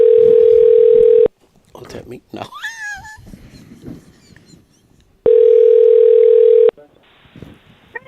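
A telephone dial tone rings out on a radio call-in line that goes unanswered, a loud, steady tone that runs for over a second, breaks off for brief talk and studio noise, then sounds again for another long stretch.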